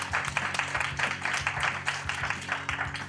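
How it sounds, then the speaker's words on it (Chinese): Studio audience applause greeting a contestant on a talent show, steady dense clapping at moderate loudness throughout, no voices over it. "掌声鼓励"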